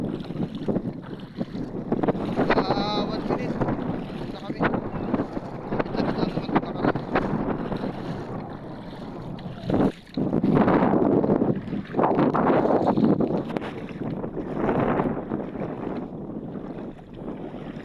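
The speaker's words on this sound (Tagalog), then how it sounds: "Medyo malakas ang hangin." Strong wind buffets the microphone in loud, gusty roars that rise and fall, with a brief lull midway, on a spearfishing outing.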